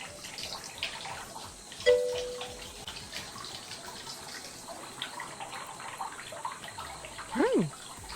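Continuous soft pouring and splashing of hot, steamy water in the video game Danceploration, low and steady, with brief tonal chirps from the game over the wash.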